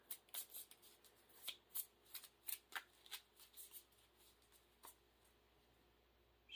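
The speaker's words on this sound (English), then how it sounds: "Shuffled in." Quiet, crisp riffling of Marvel Champions playing cards in a series of quick bursts, a short pause, then another snap of cards at the end.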